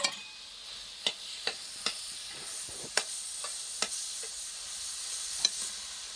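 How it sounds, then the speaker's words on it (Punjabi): Paneer being stirred into carrot halwa cooking in a pan: repeated sharp scraping strokes of a spoon against the pan over a soft, low sizzle, close and fairly quiet, no voices. "ਪਨੀਰ ਨੂੰ ਆਪਾਂ ਚੰਗੀ ਤਰ੍ਹਾਂ ਮਿਕਸ ਕਰ ਲੈਂਦੇ ਹਾਂ ਵਿੱਚ।"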